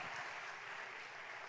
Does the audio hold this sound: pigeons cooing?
no